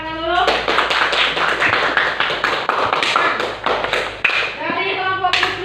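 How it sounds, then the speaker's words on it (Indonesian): An audience in a classroom bursts into sustained applause for a presenting group, dense overlapping claps and taps filling the room for several seconds, with voices chattering underneath. "Silakan tepuk tangan dulu."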